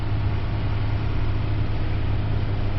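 A car engine runs steadily at raised revs while a battery tester takes its measurement, producing a continuous, even drone with a deep low hum and no speech.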